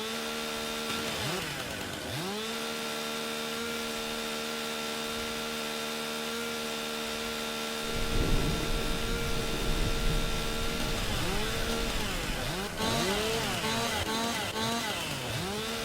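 A video-game chainsaw in Farm Sim 19 revs up and down repeatedly, its whining engine rising as it cuts tree limbs and then dropping back to idle in several cycles.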